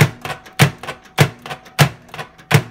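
A microwave door is slammed shut over and over in quick succession, giving sharp, close clacks roughly every third of a second, with softer rattles between them.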